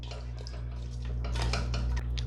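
A metal spoon stirs mutton with spices and a glass of water in a pressure cooker pot, producing repeated soft scraping clinks and wet sloshing, close by, over a low steady stove hum.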